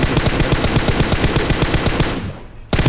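Rapid automatic gunfire in a mobile shooter game sounds as a loud, dense string of close shots that cuts off briefly and then resumes.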